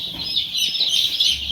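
Country chicks on a poultry farm, some of them naked-neck birds, peep and cluck continuously at close range in a steady, overlapping chatter.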